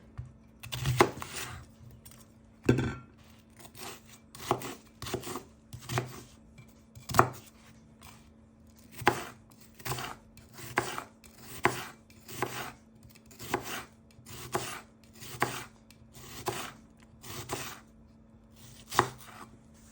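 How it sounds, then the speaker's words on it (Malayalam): Knife chopping onion for an easy salad on a cutting board, a steady run of sharp, close chops at a fairly regular rhythm, loud and with no talking. "അപ്പോൾ ആദ്യം സവോള അരിയാം."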